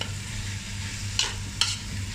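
Chopped tomatoes sautéing in hot oil for Malabar chicken biryani, with a soft continuous sizzle and two brief scraping stirs of a spoon in the pan.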